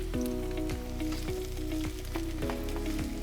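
Sliced carrots and other vegetables stir-fry in a pan, a steady loud sizzle with rhythmic scrapes and knocks of the utensil repeating roughly every half second.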